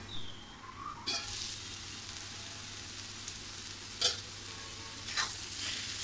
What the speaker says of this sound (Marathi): आपण हे तुपामध्ये छान असा गाजराचा किस आपण परतून घेतला आहे